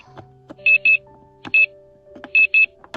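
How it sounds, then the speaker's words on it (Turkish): Short high electronic beeps come in pairs at a quick, repeating rhythm, with soft clicks and faint tones between them, fairly close. "alarm sesi de nereden geliyor?"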